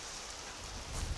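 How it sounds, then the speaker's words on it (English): Rain pouring down on the water during a college bass fishing tournament, a steady hiss of falling drops with a faint low rumble swelling near the end, and no voices. "Austin Neary and Zachary Hicks in full rain now"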